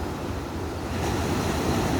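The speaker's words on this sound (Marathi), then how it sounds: "या सकाळच्या प्रहरी पॉंडिचेरीच्या या बीचवर, या लाटांच्या हिंदोळ्यांवर" Ocean waves washing onto Pondicherry's rocky beach in the early morning, a steady rushing surf that swells slightly louder halfway through, with wind noise mixed in and no voices.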